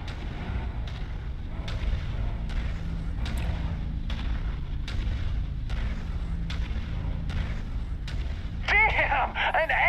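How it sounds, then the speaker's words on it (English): Ammunition cooks off inside a destroyed mech at night in Mechwarrior 5, a string of sharp cracking blasts at regular intervals over a heavy low rumble, ending in a brighter crackling burst. "An ammo blast just cooked off."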